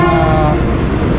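A passenger train near the NLEX-SLEX connector road works passes close by, its horn blaring loud and steady under a heavy rail rumble.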